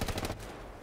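Rapid bursts of automatic gunfire from the World War II shooter Hell Let Loose, fired toward a trench, loud and close for a moment before fading into a rumbling background.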